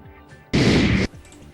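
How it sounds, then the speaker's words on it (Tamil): An AK-47 automatic rifle fired into the sky at a wedding produces a loud half-second burst of gunfire. Background murmur and noise sit before and after it. "தன்னிடம் இருந்த AK-47 தானியங்கி துப்பாக்கியால் சராமரியாக வானத்தை நோக்கி"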